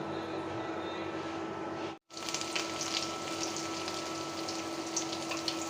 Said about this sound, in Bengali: মরিচ একটু কালো কালো করে ভেজে নিলাম